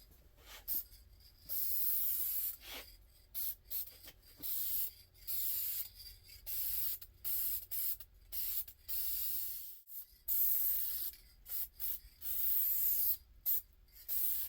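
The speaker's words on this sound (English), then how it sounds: "plastic adhesion promoter. It says to put 2 to 3 light coats on." Repeated short hissing bursts from an aerosol can of plastic adhesion promoter, applied in light coats during Foxbody interior restoration prep, each spray close and loud and separated by brief pauses.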